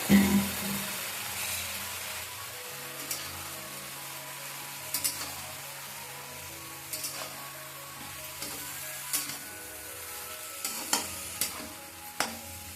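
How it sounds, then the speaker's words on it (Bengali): Red amaranth greens cook in hot mustard oil with a little water, a low continuous sizzle under repeated stirring and sharp clinks of a utensil against the pan; no voices. "কড়াইতে একটু সর্ষের তেল দিয়ে আমি একটু শাকটা ভাপিয়ে নেব।"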